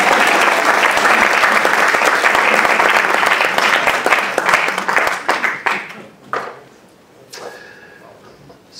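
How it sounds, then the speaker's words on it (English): An audience at an event gives loud, sustained applause that thins out after about five seconds into a few scattered, separate claps before dying away. "That's the part where you're supposed to clap"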